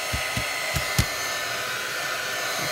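A hair dryer drying gesso on an artwork, a steady close whoosh of blowing air throughout, broken by a few soft thumps in the first second.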